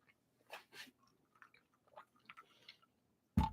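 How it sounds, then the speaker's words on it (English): Close, quiet chewing of food with jelly in it, soft wet crunching bites in an irregular run, ending with a louder clunk. "There's jelly in it. That's why there's chewing, because there's jelly."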